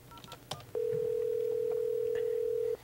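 A telephone call is placed into an Exchange Unified Messaging voicemail system: a brief click, then a steady, loud tone lasting about two seconds before it cuts off, with no talking.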